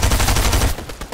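Rapid automatic gunfire in a video game, a loud close burst of fast repeating shots that stops abruptly, followed by a few fainter trailing pops.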